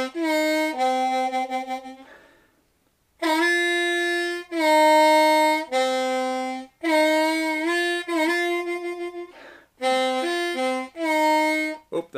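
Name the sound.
harmonica blues intro lick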